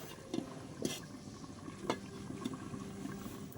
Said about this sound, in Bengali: তরকারিটা ফুটে উঠেছে